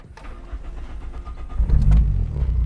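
Car engine running while driving normally at low load on a standalone ECU being fuel-tuned, a steady low rumble that swells louder toward the end.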